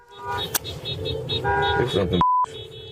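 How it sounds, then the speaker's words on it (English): A car horn sounds in a street encounter involving immigration enforcement agents, a short steady tone near the end under background noise and voices. "Another vehicle is behind the agents, also honking the horn."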